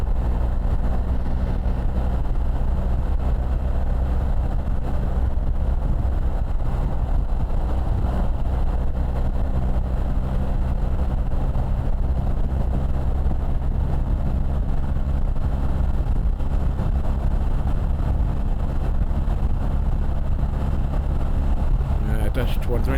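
A BMW R 1300 GS motorcycle accelerates along an open road, with a constant, loud, low engine drone and heavy wind rush that stay steady throughout.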